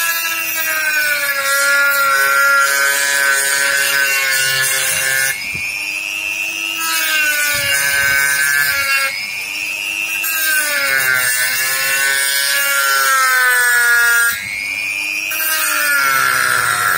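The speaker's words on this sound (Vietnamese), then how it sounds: "bây giờ mình chỉ cưa theo cái đường mình đánh dấu thôi" A hand saw cuts through wood along a marked line in long, loud passes, its grinding tone rising and falling with brief pauses between strokes.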